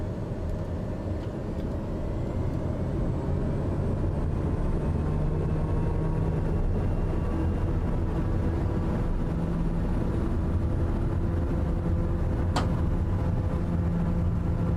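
An aircraft's engine roars steadily during a takeoff roll down runway 16 in Microsoft Flight Simulator 2020. The loud, unbroken drone holds for the whole stretch with no talking.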